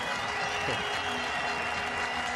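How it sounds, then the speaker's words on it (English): Pakistan supporters applauding around the cricket ground for Sharjeel Khan's century against Ireland, a continuous even roar of clapping beneath commentary. "there's huge applause around the ground as well from all the Pakistan supporters here"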